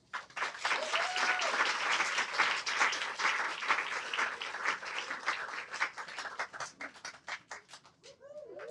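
A crowd applauds warmly to welcome guests at an evening author event, steady dense clapping that swells and then thins into scattered claps toward the end.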